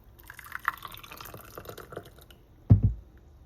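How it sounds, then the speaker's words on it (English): Jamaican strong back punch drink being poured out: a faint trickle and dripping of liquid, then a louder, brief splash or thud near the end. "pour out a little."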